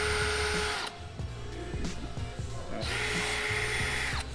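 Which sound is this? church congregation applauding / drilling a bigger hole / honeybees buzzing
drilling a bigger hole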